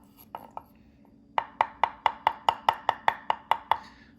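A Spyderco Parata knife chops on a cutting board at a counter: two light taps, then a steady run of about a dozen sharp, evenly spaced cuts, close and crisp, with no talking.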